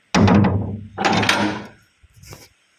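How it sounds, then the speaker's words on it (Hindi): A door in an Indian home is shut with two heavy, close thuds in quick succession, followed by a softer latch click. "पहले दरवाज़ा बंद कर ले"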